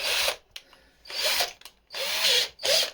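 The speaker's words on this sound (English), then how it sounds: "I like to take a bigger drill bit" A power drill with a large bit drilling out holes in a DIY inline spinner bait whirs in four short bursts, starting and stopping, with brief pauses and faint clicks between runs.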